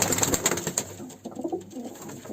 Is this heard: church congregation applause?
no